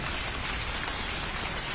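Steady, dense rain falls on surfaces in a Bengali ghost cartoon, a continuous close hiss with no pauses and no voices.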